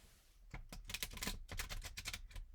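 A deck of playing cards riffled in a series of quick, crisp bursts of fluttering clicks, close and fairly quiet.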